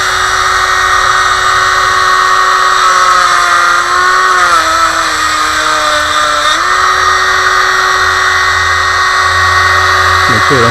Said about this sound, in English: I'm going to Dremel the corners and try and get in there just to break it out